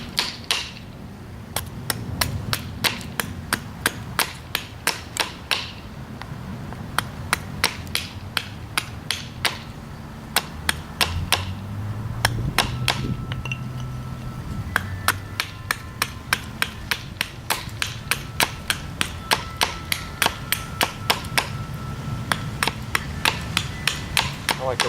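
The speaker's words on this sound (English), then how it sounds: "I like to rough things out by chopping away" Silverleaf maple wood is chopped to rough out a bow drill for friction fire, a long series of sharp, close, loud strikes in quick bursts with brief pauses between them, continuing for about twenty-five seconds.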